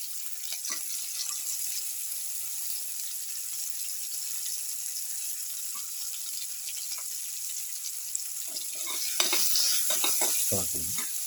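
Okra pieces sauté in a hot pan with a soft continuous sizzle. A few louder stirring and clattering sounds come near the end.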